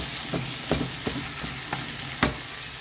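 A spatula scrapes and stirs food in a frying pan, repeating in a regular rhythm of about six strokes over a continuous sizzle.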